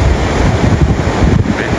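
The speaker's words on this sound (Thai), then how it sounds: "คลื่นสูงนะครับ" High surf on the Great Ocean Road coast in Australia, a loud continuous roar of breaking waves with heavy wind buffeting over it.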